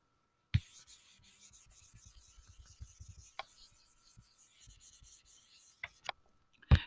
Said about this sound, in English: I'm going to go ahead and erase this.